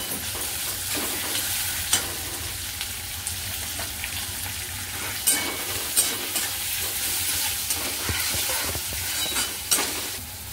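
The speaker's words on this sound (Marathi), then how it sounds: "चांगले 5-6 मिनिटं याला हलवत राहायचं, म्हणजे ते लागणार नाही खाली, नाहीतर मसाला जळू शकतो।" Onion and tomato masala with green chillies frying in a pan for kaju masala, with a steady close sizzle and occasional spoon clinks and scrapes as it is stirred throughout, without talk.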